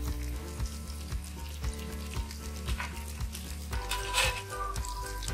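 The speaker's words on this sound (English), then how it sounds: "So we have to roast this tofu on a medium flame." Tofu pan-roasts in oil over a medium flame, giving a steady close sizzle with soft crackles and a brief louder spitting burst near the end, no voices over it.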